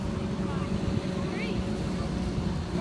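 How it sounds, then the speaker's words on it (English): A big John Deere tractor rumbles steadily past at an open farm day, its low engine drone continuous with wind noise, while people chatter over it. "Oh, look, here comes the big John Deere."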